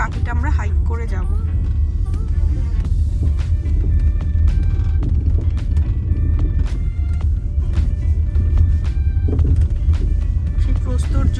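A car rolls along a dirt road in Capitol Reef National Park near Torrey, Utah, its engine and tyre rumble steady and loud from start to finish with no talk over it.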